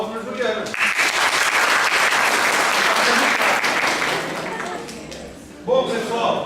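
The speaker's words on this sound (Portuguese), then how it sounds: "Palmas para a Juliana" University class applauding a classmate, a full burst of clapping that swells and holds for several seconds before fading, with a teacher's voice speaking just before and again after.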